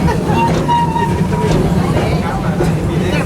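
A safari park ride train rumbles steadily along with a continuous low mechanical drone and faint rattling, while a guide's voice talks over it.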